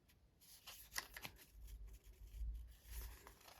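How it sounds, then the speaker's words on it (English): Cardstock for a stamped accordion-fold greeting card is carefully folded by hand, giving soft, close rustling and papery scraping in short bursts, quiet and without talk. "I'm going to carefully fold it"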